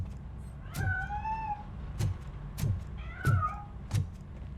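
A cat meows a couple of times with drawn-out tones in a video game, mixed with several sharp percussive knocks over a low background hum.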